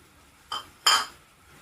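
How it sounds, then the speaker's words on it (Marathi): Cut strawberries are tipped into a cooking pot for jam, giving two close clinks or clatters about a third of a second apart, the second louder, over a quiet background. "ते कापून ठेवलेले स्ट्रॉबेरीज टाकायचे आपल्याला"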